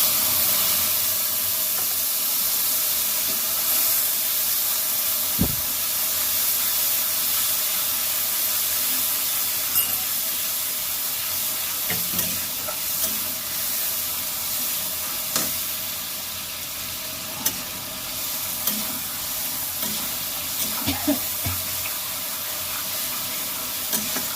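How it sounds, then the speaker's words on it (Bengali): Spice paste for a katla fish curry sizzles steadily in hot oil, a constant close hiss broken now and then by sharper pops and stirring clinks. "তো তেলটা গরম হয়ে গেছে, এবার দিয়ে দেবো মশলা।"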